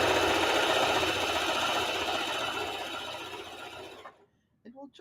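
A sewing machine running steadily while quilt blocks are stitched, a close mechanical whirr that fades and stops after about four seconds, followed by a voice.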